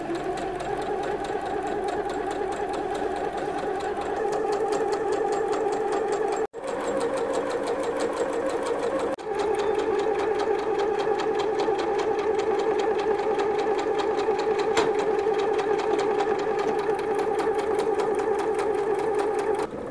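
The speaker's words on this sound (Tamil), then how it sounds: "இப்போ வந்து ஸ்டிச் ஸ்டார்ட் பண்ணலாம்." A sewing machine fitted with a pintuck foot stitches pintucks in a continuous, even mechanical whir with a fast regular needle rhythm, close and loud, with two brief pauses partway through.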